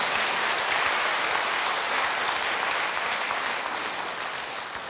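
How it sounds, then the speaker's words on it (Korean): An audience at a Catholic priest's Bible lecture breaks into sustained applause, a dense, even rush of many hands clapping for five seconds that eases slightly toward the end. "이때는 박수도 한번 쳐도 돼요."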